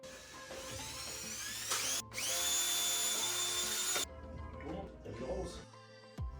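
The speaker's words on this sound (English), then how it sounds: "Now we drill." A power drill bores into wooden wall studs in a garage during a floor-to-ceiling shelf build. It gives a loud, steady high whine for about four seconds, then stops, followed by softer handling and shuffling noises.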